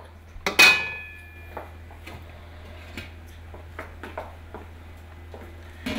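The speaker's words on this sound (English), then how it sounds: "then we just put the lid back on" A lid goes back onto a pot of rice for Afghan palaw: one sharp metallic clang with a brief ringing tail, then scattered light clinks and taps of kitchenware, close and fairly quiet, with no talking.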